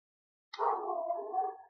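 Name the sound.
neighbours' dogs barking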